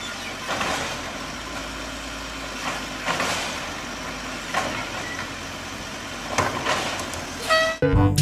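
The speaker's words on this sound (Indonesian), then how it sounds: "ada truk sampah teman-teman." A toy garbage truck's engine sound effect plays as a steady, moderately loud rumble with some louder swells, ending in a brief sharp noise.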